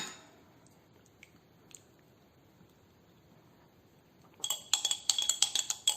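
Emu oil being stirred into a skin-exfoliating mixture with lactic and salicylic acid: faint scattered clicks at first, then a burst of rapid glassy clinks and scraping of a utensil against a container near the end.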